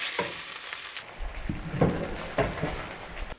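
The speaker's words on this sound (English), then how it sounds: "you can hear it's got more sizzle and it's wanting to stick a little bit as well" Pork carnitas sizzling in a hot pan, a steady crackling fry broken by several scraping stirs and clinks, close and fairly quiet, with no one talking.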